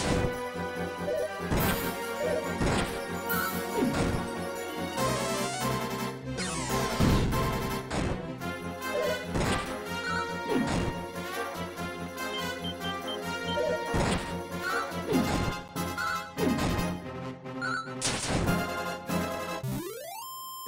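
Retro chiptune battle music and repeated sharp hit effects fill a slime fight in Dragon Quest III, with dense rhythmic strikes throughout and a rising jingle at the end.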